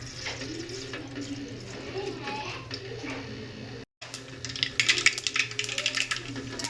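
Mustard seeds hit hot oil for Nashik-style misal, breaking into dense, rapid crackling and spluttering pops that grow louder and busier after a short gap. A steady background hum sits underneath, and there is some nearby talk.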